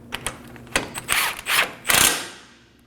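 A ratchet wrench clicks in short bursts while snugging a bolt on a rear air shock of a 2017-2024 Nissan Armada, close and fairly loud, with a few separate ratcheting runs and no talk.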